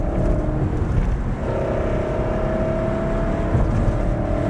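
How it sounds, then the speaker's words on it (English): A car on a race track straight accelerates hard, its engine note climbing in a loud close whine, then dips and rises again as it shifts up a gear. "Squeeze back on the gas on the straight now. Up the gear."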